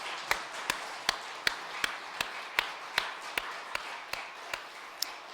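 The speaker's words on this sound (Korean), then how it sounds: "우리 하나님께 영광의 박수 한번 드리겠습니다." A church congregation claps in praise during a Sunday worship service. The claps come as sharp, evenly spaced beats, about two per second, moderately close and with no talk over them.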